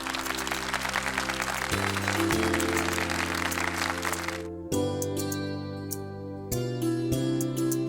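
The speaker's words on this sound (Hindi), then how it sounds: "तालियों से स्वागत कीजिए मिसेस चारुलता सेन का" Audience applause welcoming Mrs. Charulata Sen on a televised stage, a dense wash of clapping over loud steady music with sustained chords, the clapping fading out midway while the music carries on.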